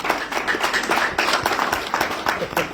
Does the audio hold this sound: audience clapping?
yes